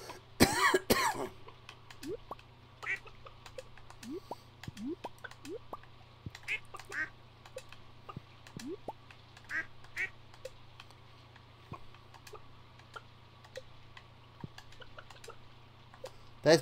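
Farm-animal clucks from the chicken coop in the Stardew Valley video game come as short, bright calls scattered through quiet ambience, mixed with light clicks and soft game sounds.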